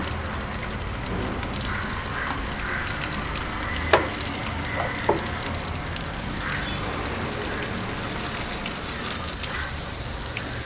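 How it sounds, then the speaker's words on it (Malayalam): Stuffed mussels shallow frying in hot oil give a steady, dense crackle and sizzle throughout, with a couple of brief sharper pops near the middle and no voices. "എണ്ണ ചൂടായിട്ടുണ്ട്, കുറേശ്ശെ നമുക്ക് ഓരോന്നായിട്ട് ഇട്ട് കൊടുക്കാം."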